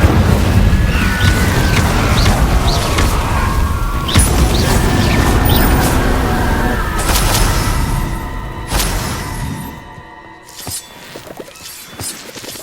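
An Incendio fire spell cast in the Hogwarts Legacy video game, a loud dense burst of whooshing flame and crackling impacts over a rumbling battle bed that thins out and fades toward the end.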